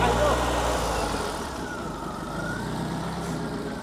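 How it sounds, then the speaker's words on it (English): A Volvo 242 engine idles steadily and close by, a low continuous rumble with a faint whine above it and people talking faintly in the background. "it idles just like a new car"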